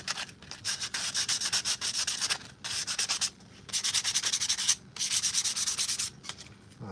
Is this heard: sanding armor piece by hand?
yes